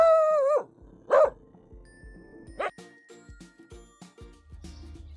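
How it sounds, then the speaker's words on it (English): Several dogs on a farm bark in short loud bursts with a drawn-out howl at the start, then quieter scattered yips and a faint jingle, heard close with no talk. "It was a dog."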